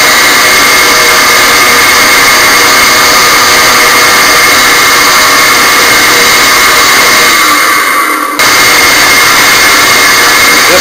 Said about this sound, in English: a very noisy drill press.